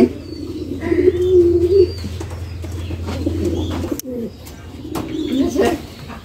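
Pigeons coo in low, throaty, rolling calls close by in a pigeon house with chicks, repeating in a few bursts over a steady low hum.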